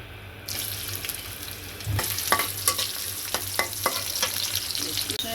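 Chopped onions go into hot oil in a wok and hiss loudly, followed by repeated scraping and clacking strokes of a spatula stirring them over a constant sizzle.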